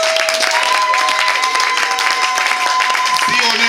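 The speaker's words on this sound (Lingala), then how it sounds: "Est-ce qu'on peut m'applaudir très très très fort?" Wedding guests applaud loudly and continuously, a dense, close burst of clapping with voices mixed in.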